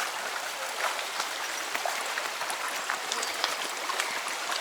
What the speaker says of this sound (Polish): A tu piesek się pluska, chłodzi.